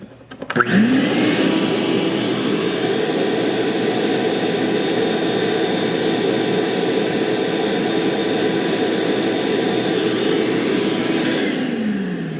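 A Ridgid 5 peak horsepower wet/dry shop vac switches on, spins up quickly and runs with a loud steady whine and roaring airflow, then begins to wind down at the very end.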